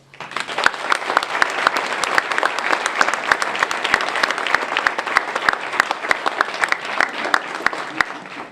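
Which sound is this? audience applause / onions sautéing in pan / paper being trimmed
audience applause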